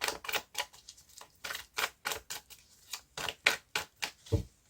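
A deck of tarot cards is cut and shuffled close by. Crisp, evenly paced riffs and taps repeat about fifteen times with brief gaps between them, and no one speaks.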